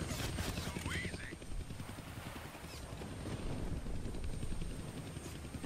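A helicopter circles in a Deadpool video game battle, its dense rotor thump and engine roar steady and loud throughout, with game effects layered on top.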